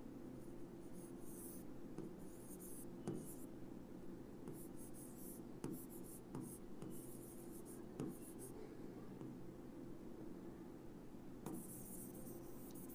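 A pen or pencil writes by hand on paper in quiet, soft scratchy strokes with small taps, close and faint, in intermittent bursts.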